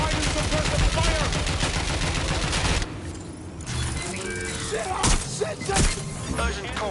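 Suppressive gunfire in Watch Dogs: Legion, sustained rapid automatic bursts up front, then a brief lull followed by several sharp, loud shots and impacts, with a voice talking over the action.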